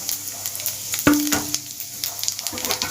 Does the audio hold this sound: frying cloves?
yes